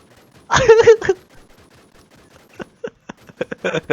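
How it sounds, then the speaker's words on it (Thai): Gunfire in the video game WarZ: a loud rapid burst of automatic shots, then scattered single shots and quick short bursts, close and sharp against near silence. "มันยิงผมไม่ตายเว้ย มันยิงผมไม่ตายมันยิงผมไม่เข้าดีพี่"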